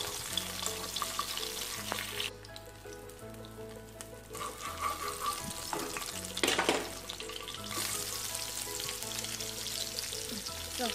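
Chopped onion sautéing in hot oil in a pan for channa masala, giving a steady close sizzle with occasional stirring scrapes, under soft background music throughout.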